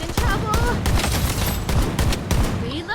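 Rapid bursts of gunfire in the video game Blood Strike ring out, with dense overlapping shots fired until the magazine runs dry, loud and continuous across the moment while a voice talks over it.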